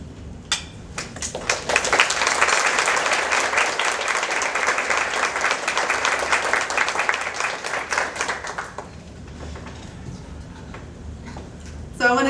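Audience at a ladies' luncheon breaks into a long round of applause, dense clapping from many hands filling the room for several seconds before fading, with a voice resuming afterward.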